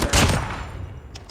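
Gunfire in the mobile shooter game Call of Duty Mobile, a loud burst of rapid shots at close range that fades within about a second, with no talk over it.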